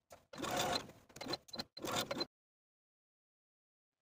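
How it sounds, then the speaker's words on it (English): Sewing machine edge stitching a dress sleeve facing close to the inner fold: three short bursts of fast stitching separated by brief pauses, then silence. "Now we're going to sew the facing to the bottom of the sleeve once again, edge stitching close to the inner fold of the facing all the way around."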